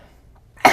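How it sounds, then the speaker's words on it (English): A cigarette smoker gives one short, sharp cough, close and loud, right at the end after near silence. "I'm a cigarette smoker, so I cough a lot."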